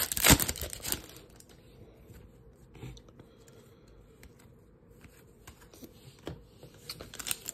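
Foil packs of 2024 Topps Series 2 baseball cards being torn open and handled, with a sharp crinkling rip at the start, then soft rustling, card shuffling and small crackles close up, no talking.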